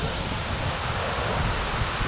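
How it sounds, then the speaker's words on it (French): Roaring waterfall and fast, high-flowing river in Puy-de-Dôme, a dense, loud, continuous rush of water heard up close, with some wind buffeting the microphone. "Magnifique avec cette belle cascade. Par contre là il y a du débit là."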